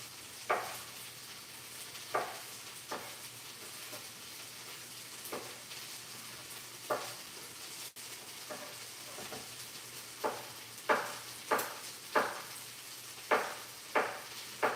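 Sliced sausage and vegetables for okra filé gumbo fry in a pan with a steady low sizzle, broken by about a dozen sharp scraping stirs spread across the stretch, fairly quiet and without any talk.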